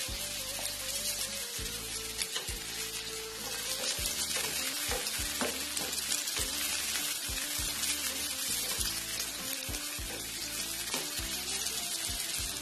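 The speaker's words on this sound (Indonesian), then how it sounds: "Kalau bawang putih sudah harum, kemudian masukkan bawang bombaynya." Garlic and onion fry in a pan with a continuous close sizzle, mixed with intermittent stirring scrapes and a low repeating hum underneath; no talking.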